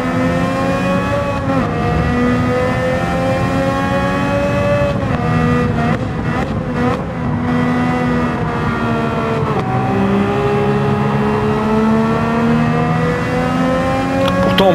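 Race car engines in Gran Turismo 7 scream loudly and continuously, with several cars revving, shifting and accelerating close together, engine pitches rising and falling without a break.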